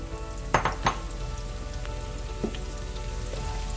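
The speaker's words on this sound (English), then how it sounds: "I'm going to add my sliced onions" Sliced onions go into a hot pot for mutton biryani and sizzle steadily, with a few sharp crackles early on settling into a soft, continuous frying hiss.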